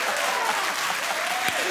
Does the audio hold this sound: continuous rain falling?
no